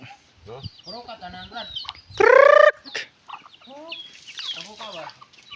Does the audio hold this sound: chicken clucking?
yes